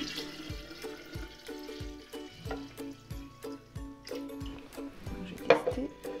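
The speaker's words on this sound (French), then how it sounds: "je vais rajouter 1 litre d'eau pour faire mes 2 litres" Water poured from a tap into hot kombucha tea to dilute it, a steady running trickle with clinks and knocks from the container, fairly quiet and close, with some faint speech.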